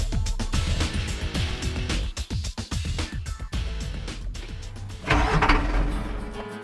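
A FAW Tiger series light duty truck's engine clatters through a rhythmic run of pulses as it starts, then settles into a steady, close, mid-toned running idle.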